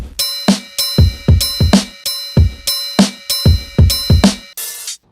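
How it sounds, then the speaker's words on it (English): Corner Store Kit drum samples in Battery triggered from MIDI controller pads, giving a steady pattern of punchy kicks and bright ringing hits, loud and close, ending on a short noisy crash-like burst. "I'm in Battery and I pulled up Corner Store Kit and it sounds like this"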